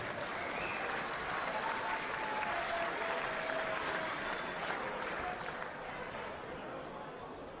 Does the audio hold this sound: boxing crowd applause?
yes